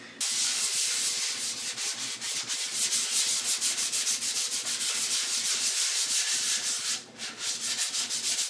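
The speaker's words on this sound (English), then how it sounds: "I got this 220 grit sandpaper, and I'm just going to lightly sand over the whole piece" A lacquered wooden chips and dip tray is lightly hand sanded with 220 grit sandpaper in steady, rapid back-and-forth strokes, a close, continuous scratchy rubbing with one brief pause near the end and no speech.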